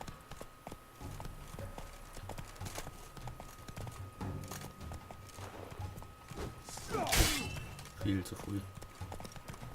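Horse hooves galloping in The Witcher III, a busy rhythmic clatter mixed with game combat noise and a sharp burst near the end, heard under someone talking.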